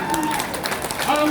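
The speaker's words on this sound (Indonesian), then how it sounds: "Tepuk tangan." Crowd clapping at an anniversary gathering of a community organization, a continuous rustle of many hands heard under a voice over a loudspeaker.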